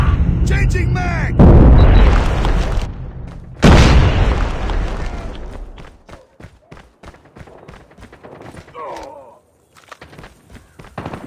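Grenades explode in a Call of Duty Mobile match with two heavy, booming blasts a couple of seconds apart, and game voice callouts and gunfire-like clatter fill the gaps.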